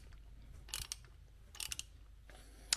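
A ratchet tightens the cam belt tensioner on an Alfa Romeo Twin Spark engine, producing two short bursts of quick clicking, faint and close, over a low background hum.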